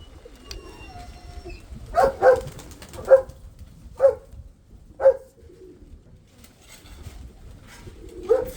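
Pigeons coo in a series of five or six soft, evenly spaced calls, close by, with a quiet background.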